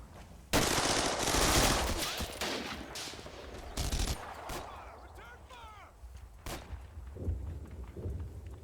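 Bursts of gunfire from Combat Mission: Battle for Normandy, a heavy loud volley at first, then scattered shots and short bursts that sound farther off, with light talk in between.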